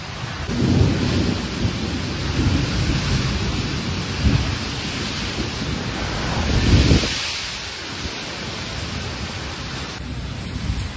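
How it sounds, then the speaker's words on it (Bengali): Heavy rain pours steadily while low thunder rumbles and rolls several times, a strong storm with dense, continuous noise. "এত ঝড় নেমেছে এখানে হঠাৎ"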